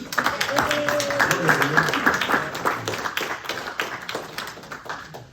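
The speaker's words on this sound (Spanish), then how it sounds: "Un aplauso para los jueces." A church congregation claps for the judges, a scattered burst of applause that fades over a few seconds while a voice talks over it.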